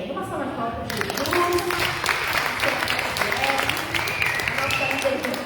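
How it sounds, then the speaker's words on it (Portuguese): A church congregation applauds at a Bible festival, a crowd of hands clapping in a lively, fairly loud burst that carries on steadily, with voices and cheers mixed into the clapping. "Uma salva de palmas para Jesus."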